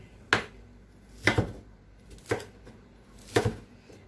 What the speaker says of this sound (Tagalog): Kuyatin na natin ang ating vegetable. Dapat ang gayat niya is ganito. Cubes.